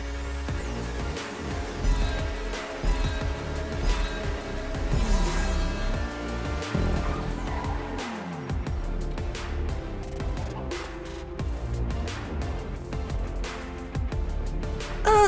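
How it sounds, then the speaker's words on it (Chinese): An Itali GTB custom car in GTA V accelerating to top speed and then braking, with a continuous engine drone that rises and falls in pitch as it shifts, over sustained in-game noise. "再来是我们的刹车测试，新加速到极速，在2公里处刹车"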